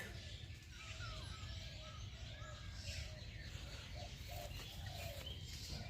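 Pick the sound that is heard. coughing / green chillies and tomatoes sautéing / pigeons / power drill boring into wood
pigeons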